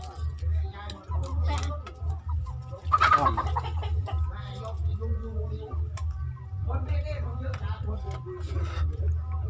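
Chickens cluck repeatedly at a rural Thai home, close and fairly loud, mixed with a steady low hum and people talking nearby throughout.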